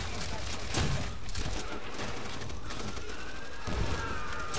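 Gunfire in the World War II shooter Call of Duty: World at War: two loud bursts of shots, one near the start and one near the end, over a constant busy battlefield din.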